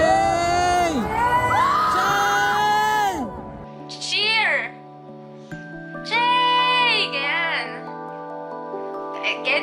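A crowd at a K-pop concert in Bulacan erupts in loud, high-pitched screaming that swells in bursts and drops away between them, with voices talking nearby.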